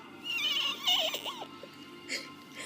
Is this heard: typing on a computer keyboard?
no